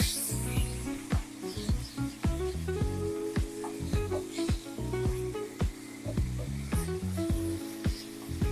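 Chicken pieces for Asian chicken noodles fry in a hot pan in a single layer, giving a steady loud sizzle broken by repeated scraping and stirring clicks from a utensil, with no talking.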